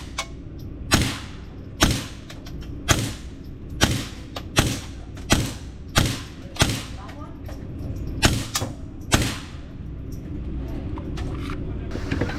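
About a dozen sharp, fairly quiet cracks from a suppressed FN 502 Tactical .22LR pistol at an outdoor range, fired one by one at a steady, slightly uneven pace with only a faint background hum between shots.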